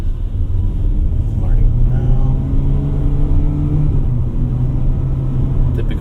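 A 2024 Mitsubishi Xforce engine with CVT drones and rises in revs, heard muffled from inside the cabin as a steady low rumble with a slowly climbing pitch.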